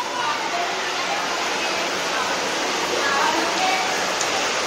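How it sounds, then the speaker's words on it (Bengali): A downpour of heavy rain drums on without pause at an evening Rakhi festival gathering, a broad, constant roar holding steady and fairly loud from start to finish. "বিশাল বৃষ্টি"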